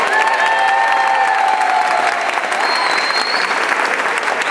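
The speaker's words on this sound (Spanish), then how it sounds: "vamos a responderle un aplauso a la figura" Steady crowd applause with some cheering at a comedy show in Cabaiguán, loud and dense throughout, with faint whistles or calls rising above the clapping.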